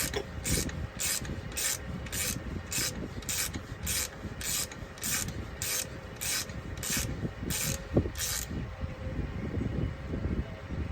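A ratchet wrench clicks in a fast, even series of strokes while bolts are snugged down on the plastic rear brake housing of a 2022 Toyota Tundra SR5 4WD, close and moderately loud, then stops.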